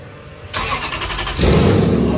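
A Mercedes G-Wagon with a swapped Toyota 1UZ V8 cranks briefly, then catches and rises into a loud, rough idle, recorded up close.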